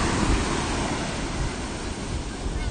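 Ocean surf washing up a beach toward the dunes, a steady broad rush of waves heard close with wind buffeting the microphone, no voices.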